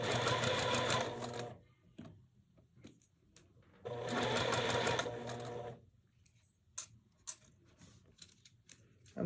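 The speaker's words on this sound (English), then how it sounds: "I'm just going to sew across. Here we go. So slowly sew." A sewing machine stitches across a quilt block in two steady whirring bursts with a pause between, followed by quieter clicks and handling sounds, close and moderately loud.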